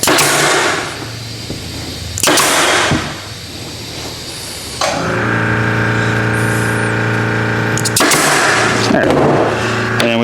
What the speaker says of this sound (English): And we put us a staple in there.